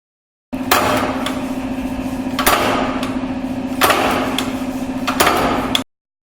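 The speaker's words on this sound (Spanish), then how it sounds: "Ejemplo de sonido de la máquina troqueladora." An industrial punch press stamps in heavy, evenly spaced thuds, four in all, over a constant mechanical hum. Loud and close, with no voices.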